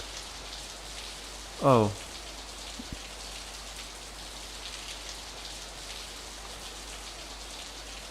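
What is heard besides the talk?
rain falling in the video game Steins Gate 0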